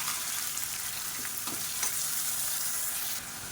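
Finely chopped large onions sizzle loudly in a hot pan with a steady crackling hiss, while a spoon occasionally scrapes and stirs them.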